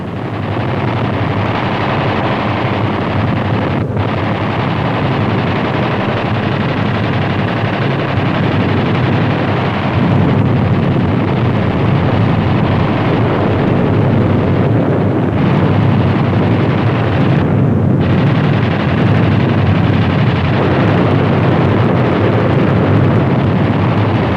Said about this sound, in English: It starts its run with more strafing, and later with more parafrags it will give the strip and revetment areas their second going over